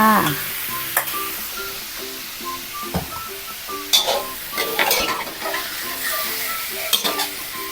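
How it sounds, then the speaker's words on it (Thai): Shrimp and squid stir-fried in a hot pan for a Thai seafood rad na sizzle steadily up close, with a spatula knocking and scraping against the pan at irregular intervals. "กุ้งลงไปด้วยค่ะ"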